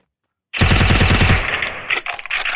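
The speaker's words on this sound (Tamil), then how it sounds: "இப்போ UMP எடுத்து அடிக்கலாம் கைஸ்." In Free Fire, a UMP submachine gun opens up after a brief silence with a loud, rapid automatic burst of about a second. A few scattered, uneven shots trail off afterward.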